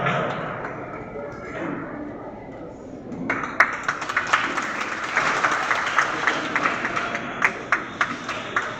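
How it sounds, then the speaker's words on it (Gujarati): Crowd applause at a student award ceremony in Porbandar builds from a soft patter into steady clapping, sustained and fairly loud, with a few sharper claps standing out. "આપણે એને ખૂબ તાળીઓથી આવકારશું"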